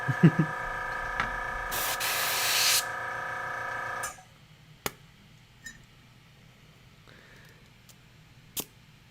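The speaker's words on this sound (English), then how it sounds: "Ah, the sounds of the compressor." Small air compressor powering an airbrush for miniature painting runs with a steady hum and a hissing burst for a few seconds, then cuts off, leaving a quiet room with a few faint clicks.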